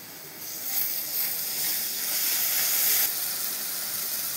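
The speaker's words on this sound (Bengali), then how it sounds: "দেখুন পেঁয়াজগুলো ভাজা হয়ে গেছে। এবারে রসুন বাটা দিয়ে দেবো।" Garlic paste and onions sizzle and hiss steadily in hot oil, close and continuous, with no voices over the frying.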